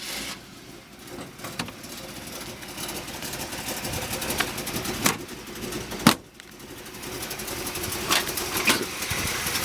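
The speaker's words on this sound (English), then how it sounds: "Why don't we leave it running and open the hood? We get a shot of this motor running." A 1952 Jaguar XK120 fitted with a 350 Corvette engine idles with the hood open, giving a steady, moderately loud rumble. Occasional knocks and thumps from nearby handling sound over the engine, with no talking.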